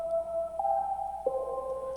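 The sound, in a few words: layered synth chord progression, Ethereal Earth Pack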